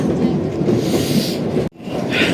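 Kalka–Shimla toy train running alongside a road, a steady rumbling roar of wheels and carriages heard close and loud, with a brief dropout near the end.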